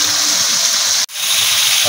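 Water is poured into a pan of tomato sauce made from fresh tomatoes, giving a loud, steady hissing gush that cuts off abruptly near the middle and then resumes.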